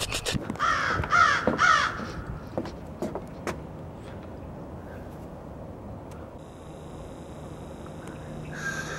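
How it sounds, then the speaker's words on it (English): Crows caw loudly several times in quick succession, then fall quiet, leaving a soft outdoor hum with a faint vehicle sound. "Crows."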